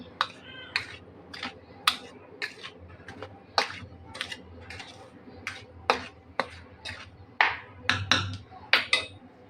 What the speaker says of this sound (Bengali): এখন আমি সুন্দর করে এটাকে শুকনো উপকরণ গুঁড়া আমি মেখে নিচ্ছি